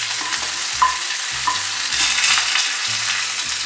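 Chopped onions fry in hot oil with mustard seeds for a Tamil moong dal upma, a steady close sizzle broken by rhythmic scraping strokes of a spoon against the pan, no voices.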